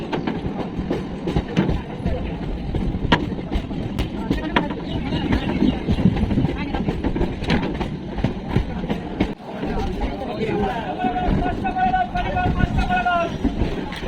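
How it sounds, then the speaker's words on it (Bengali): A train rolls into Kalinarayanpur station, heard from inside the carriage as a continuous low rumble with rhythmic rail clatter and wind buffeting. Voices are heard faintly near the end. "ট্রেন কিন্তু আমাদের কালিনারায়ণপুর স্টেশনে প্রায় ঢুকে ঢুকে গেছে।"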